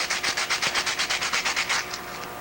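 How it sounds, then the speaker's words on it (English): Sandpaper rubs the gloss off the back side of a trimmed aircraft rudder part in about a dozen steady back-and-forth strokes. Each stroke is a clear, close scratchy rasp, then a few softer final passes. "Now we're going to sand all of the gloss off the back side here."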